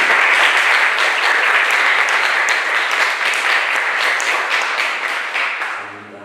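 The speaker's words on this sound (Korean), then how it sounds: "자리 잠깐 이어서 박수로 환영합니다" A church congregation at a Sunday worship service claps to welcome a visiting mother, loud steady applause from the whole room that tapers off in the final second.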